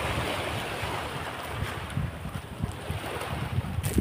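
Sea waves wash onto the shore at Ilihan, a continuous rumbling surf with gusty wind buffeting the microphone, steady and moderately loud with no voices.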